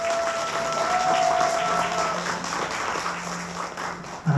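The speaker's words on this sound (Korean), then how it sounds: "다시 한번 큰 박수 부탁드리겠습니다" Guests at a Korean family celebration ceremony at a banquet hall clap steadily as one warm, sustained round of applause that holds at an even level throughout.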